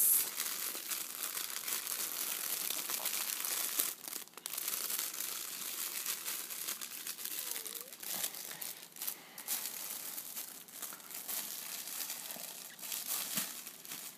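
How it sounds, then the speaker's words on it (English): A baby's teething blanket crinkles softly close by, giving a quiet run of papery rustles and crackles over several seconds with a brief louder crumple. "Oh, it's a teething blanket. Look at that, Bubby. It crinkles."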